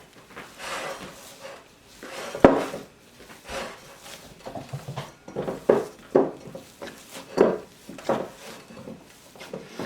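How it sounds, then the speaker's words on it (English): Whole-wheat sourdough biscuit dough is kneaded by hand on a work surface, giving soft, irregular thumps and rubbing pushes close by, with no voices. "And now I just want to knead that in."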